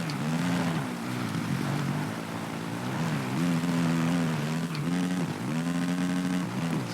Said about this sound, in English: Maybe just keep it in second. That will really keep the revs up then.